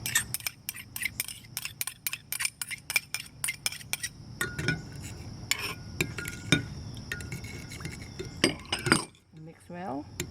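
Sauce of cooking wine, sugar, sesame oil, hot chili paste and oyster sauce is stirred in a bowl with a metal utensil, giving quick repeated clinks and scrapes close up, with a faint voice near the end.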